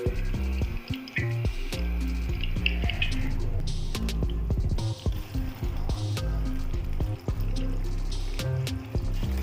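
Water and vinegar drain from about a kilogram of chicken pieces tipped into a kitchen strainer, giving trickling, dripping liquid sounds with intermittent clatters and knocks of the metal strainer close by.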